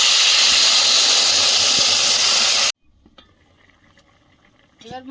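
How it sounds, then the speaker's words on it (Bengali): Water poured over fried potato and eggplant in a hot pan sends up a loud, steady steam hiss, which stops abruptly and leaves only faint kitchen clatter. "সবজিটা ভাজা হয়েছে জল দিয়ে দেবো"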